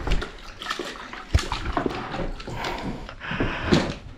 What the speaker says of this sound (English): So I've just put it in some water, give it a quick clean.